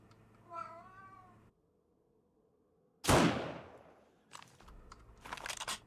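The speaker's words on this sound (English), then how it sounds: "I've got two cats fussing at me." Two cats meowing and fussing in the zombie survival game 7 Days to Die: a drawn-out wavering meow, a pause, then a loud harsh hiss-like burst followed by rapid clattering noises.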